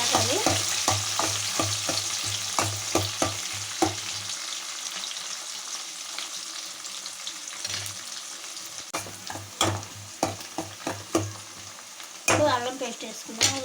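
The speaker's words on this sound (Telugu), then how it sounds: "ఇప్పుడు ఎర్రగడ్డ వేసుకుందాం." Onions fry in hot oil in a pan for a Telugu fish curry, with a steady crackling sizzle and repeated rhythmic scraping taps of a spoon stirring, closely recorded.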